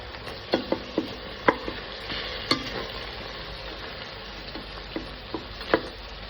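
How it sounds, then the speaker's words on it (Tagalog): Chicken breast sizzles in a pan with oyster sauce, a steady frying hiss broken by scattered clinks and scrapes of stirring close by. "Ilalagay ko na itong chicken breast."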